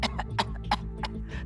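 A child with whooping cough (pertussis) coughs in a rapid series of about five harsh, close bursts in quick succession.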